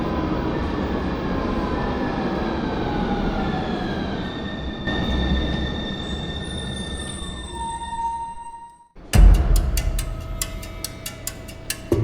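Train at a station platform for Linate Airport in Milan, with steady rumbling rail noise and descending tonal whines as it moves, then a sudden drop and a burst of clattering mechanical sound near the end.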